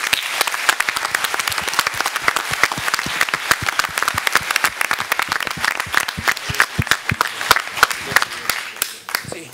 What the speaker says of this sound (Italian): quindi il primo applauso va a voi